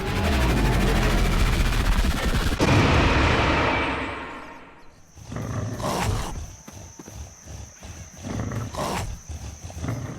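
Grenadier enemy death and impact effect from the Unity 3D Game Kit: a loud, dense roaring rumble with crashing layers for several seconds, fading, then a run of sharper metallic hits and clanks trailing off.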